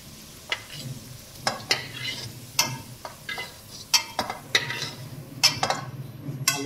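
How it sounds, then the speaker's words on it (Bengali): Potato chunks for mutton curry fry in oil in a pan, a steady sizzle punctuated by frequent sharp scrapes and clinks of a spatula turning them. "হালকা ভেজে রাখছি।"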